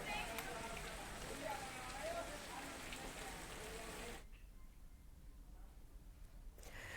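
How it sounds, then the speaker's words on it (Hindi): Steady, heavy rain hisses continuously through the first four seconds, then drops to a faint background wash for a while before swelling again near the end; a news report on flooding in Rampur. "यहां पर भी लगातार बारिश हो रही है"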